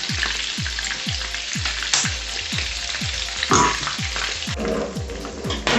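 Scampi buns fry in oil in a pan over a low flame. A constant close crackle and sizzle runs throughout, with no voices.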